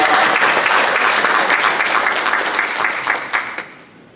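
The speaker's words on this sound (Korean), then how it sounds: "박수로 환영하겠습니다" A church congregation breaks into sustained, dense applause to welcome a first-time worshipper, loud and steady throughout before thinning slightly toward the end.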